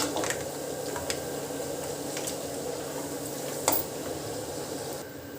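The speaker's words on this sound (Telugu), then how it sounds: "కొద్దిగా వేరుశెన పలుకులు జీడిపప్పు ఫ్రై చేసుకుందాం" Peanuts and cashew nuts frying in hot oil for a bitter gourd fry, a steady close sizzle with a few sharp crackles and clinks of stirring, no talk.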